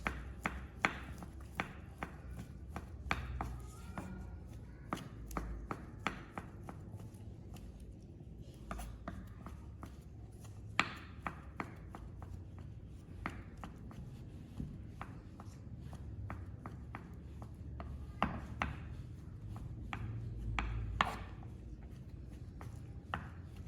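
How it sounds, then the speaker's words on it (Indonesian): Liver finely chopped with a knife on a cutting board, quick, light, closely spaced knife taps in a long, steady run, fairly faint and close by, with no one talking. "Untuk hati atau protein hewani kita butuh sekitar 40 gram. Jadi bisa kita cincang halus."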